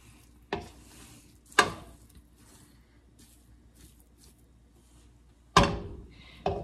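Italian sausage dressing stirred in a pot to work the seasonings in, heard as a few distinct scraping thuds and clunks separated by quiet stretches of low background hiss.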